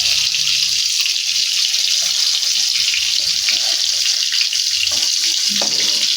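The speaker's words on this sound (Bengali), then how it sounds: "তেলটা গরম আমার হয়ে গেছে। এবার আস্তে করে এইভাবে আমি বসিয়ে দেবো।" Bitter gourd slices frying in hot oil, a steady loud bright hiss of sizzling that holds evenly throughout with a few soft clicks.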